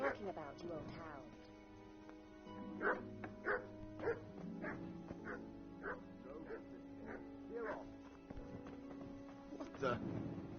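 Several dogs bark in Kingdom Come: Deliverance, a burst of repeated bow-wows and yips spaced through the scene, with steady game ambience and a voice talking beneath.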